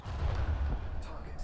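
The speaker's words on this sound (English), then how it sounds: "Dubstep cannon" A dubstep cannon fires in a video game, a brief heavy low booming burst with a rumbling tail, and a voice briefly audible alongside.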